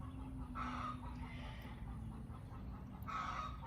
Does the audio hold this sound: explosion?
no